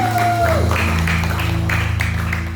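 A church congregation cheers and applauds in a broad, continuous wash of clapping and voices, layered over sustained organ or keyboard chords that play throughout.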